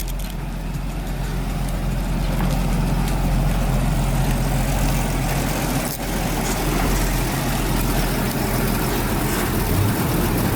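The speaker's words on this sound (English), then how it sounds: "Let's go for a little test drive here, guys." A Jaguar XJ6's engine drones as a steady, loud low rumble from inside the car during a test drive, with road noise and no talk.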